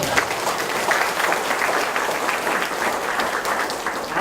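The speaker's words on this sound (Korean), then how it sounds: "이 대목에서 박수 한번 주시죠" A crowd at a provincial governor's field visit in Hongseong, South Korea, claps together in a steady, moderately loud round of applause lasting the full few seconds.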